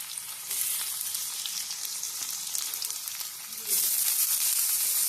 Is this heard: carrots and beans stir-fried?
yes